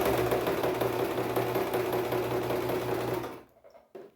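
A household sewing machine runs steadily at close range, stitching fabric with a dense whirring hum for about three seconds before it stops. A brief tap follows in the near silence.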